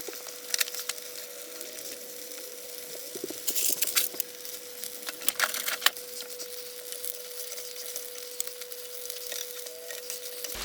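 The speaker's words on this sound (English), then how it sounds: "just kind of remove some of the egg from away from the silicone rings" Leaked egg is scraped away from silicone egg rings in a frying pan, giving irregular close scraping and clicking strokes over a steady faint sizzle.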